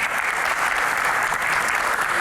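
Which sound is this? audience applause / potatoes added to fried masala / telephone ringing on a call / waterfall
audience applause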